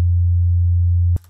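A pure, steady low sine tone at note F1 from Ableton's Operator synth on its initial preset holds loud and unchanging for about a second, then cuts off abruptly with a soft click.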